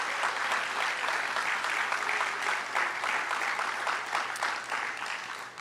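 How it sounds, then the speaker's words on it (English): Broad, steady applause from an audience at a senior awards ceremony at Cal Maritime, honoring sponsors; dense clapping fills the room at an even level throughout, with no pauses. "Let's give them a big round of applause."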